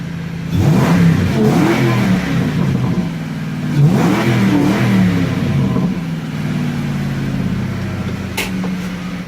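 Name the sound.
1994-2004 Ford Mustang engine revving through exhaust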